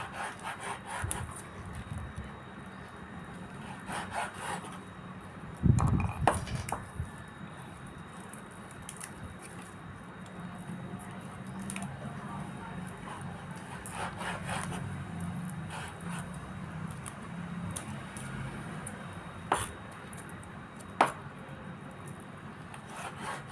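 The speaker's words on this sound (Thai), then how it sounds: "เนี่ยเราก็จะมาหั่นเป็นเส้นๆ แบบนี้นะ" Repeated rough cutting strokes of a knife slicing pork into strips on a board, steady and close, with a few sharper knocks of the blade along the way.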